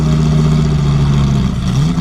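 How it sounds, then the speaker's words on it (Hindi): A motorbike engine runs with a steady, loud mid-pitched drone that rises slightly in pitch near the end as it revs, with no voices over it. "शैलेश बाइक स्टार्ट कर वहां से निकलने लगता"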